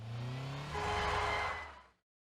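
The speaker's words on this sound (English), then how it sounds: "Did you just get hit by a fucking truck?" Video game truck engine roaring in and revving up as it strikes a character, rising then cutting off abruptly into silence.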